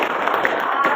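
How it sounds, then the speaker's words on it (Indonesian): A class claps hands together in a classroom, a short burst of dense, close clapping lasting about a second, with voices mixed in. "Boleh tepuk tangannya."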